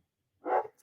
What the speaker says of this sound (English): Sorry if you can hear my dog barking here.